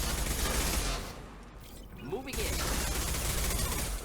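Gunfire in Mass Effect 2 comes as sustained bursts. It drops out briefly in the middle, where a faint voice-like sound can be heard, then resumes just as heavily.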